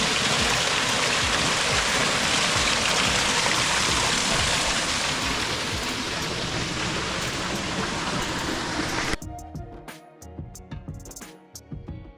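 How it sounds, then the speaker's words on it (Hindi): Water pours from a dam at Paghman, Kabul, making a loud, steady waterfall rush that cuts off abruptly near the end to quieter surroundings. "यहाँ आवाज़ आ रही है, आबशार जिस तरह होती है, या आप चश्मा कह लें।"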